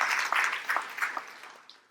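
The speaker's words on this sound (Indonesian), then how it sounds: "Beri tepuk tangan" Church congregation clapping at a pastor's call during a sermon on the Day of the Lord, a soft wash of scattered hands building and then thinning out over two seconds, fairly distant and fading toward the end.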